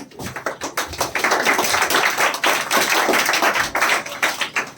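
Students in a spoken English classroom clap together, a loud, close burst of hand claps that comes in uneven waves and carries on for several seconds without speech.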